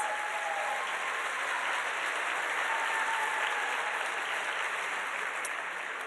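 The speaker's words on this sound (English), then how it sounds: "Let's give them all a huge round of applause, please." Audience applause at the 2016 Have a Heart benefit program, a dense, steady roar of many hands clapping that holds evenly for the whole stretch with no voices.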